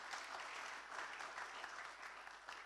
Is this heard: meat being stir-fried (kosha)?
no